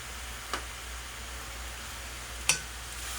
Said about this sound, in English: Stir, stir, stir, stir.